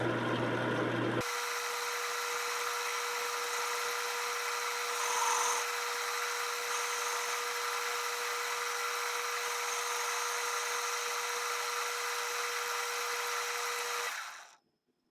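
A lathe lightly facing the muzzle end of a deactivated rifle barrel gives a steady, even machining whine with a faint scraping hiss, running alone for about thirteen seconds before stopping abruptly.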